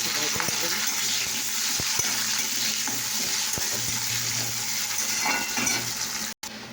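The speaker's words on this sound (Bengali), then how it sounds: "পেঁয়াজটা একটু ভাজা হবে।" Onion fries in a pan with panch phoron and gives off a constant close sizzle. Sharp taps of a spatula against the pan cut through it, and a brief drop to silence comes near the end.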